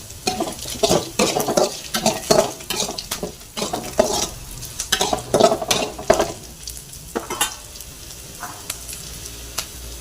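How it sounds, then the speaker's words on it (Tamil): Dried red chillies being sautéed in a pan for a Karpooravalli (ajwain) leaf chutney: a steady oil sizzle with repeated close scraping and stirring strokes of a spoon against the pan, busy through the first two-thirds, then quieter. "சேர்த்து ஒரு வதக்கிக்கணும் வரமிளகாய்"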